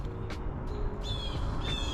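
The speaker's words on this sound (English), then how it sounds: "The birds are singing for us" Crows caw outdoors, a few harsh, separate calls over a low, steady background hum.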